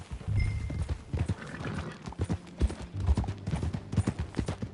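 Horse hooves clip-clop steadily in Red Dead Redemption 2, with a neigh and snorting mixed in, close and fairly loud throughout.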